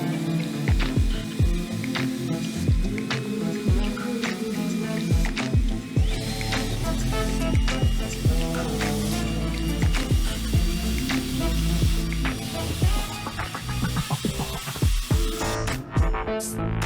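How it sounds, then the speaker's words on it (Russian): A power sander with 220-grit sandpaper works a wooden board, giving a steady whirring grind with frequent knocks and scraping bursts, close and continuous throughout. "насадка для шлифования, и у нас здесь наждачная бумага номер 220, номер зерна"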